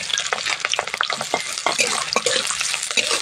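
Sliced onions and slit green chillies frying in a pan for egg chowmein, with steady close sizzling and repeated scraping stir strokes throughout, no voices.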